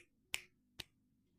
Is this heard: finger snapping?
yes